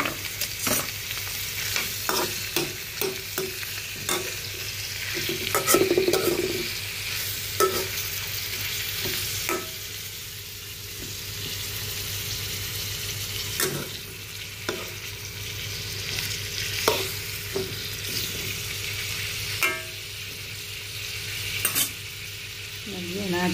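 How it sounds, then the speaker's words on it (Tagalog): Garlic, onion and spices sautéing in a pan, a continuous sizzle broken by repeated scraping and clinking of a utensil against the metal as the food is stirred. "Igisa muna natin sa mga lamas, bawang at sibuyas bago natin"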